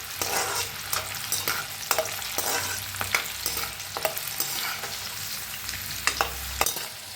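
Whole, uncrushed country garlic cloves fry in hot oil for chivda, a loud continuous sizzle broken by regular clacks and scrapes of stirring, with no voices.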